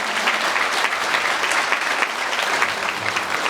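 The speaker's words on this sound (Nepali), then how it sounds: "जोरदार तालीले सम्मान गर्नुहोस्।" Loud, dense applause from a crowd at a religious gathering, honouring a lamp lighting ceremony. It holds steady and unbroken for several seconds.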